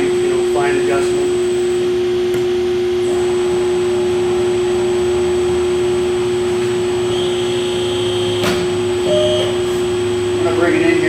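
An RMT FC-FAB flanging and circle cutting machine carrier runs with a steady, even mechanical hum and a constant whine, close and continuous, while a person talks over it.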